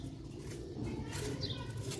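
Sialkoti red-pearl pigeons, a fancy breed, cooing softly with low burbling calls, and a brief higher chirp partway through, heard close but faint.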